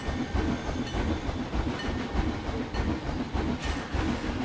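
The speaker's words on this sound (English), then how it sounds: "You can hear the engine, and it's just, they did an awesome, awesome, awesome job on the Connie Express." The Connie Express train in the Planet Coaster game rolls along with a steady rhythmic clickety-clack of wheels over rail joints, a continuous moderate rumble with no voices.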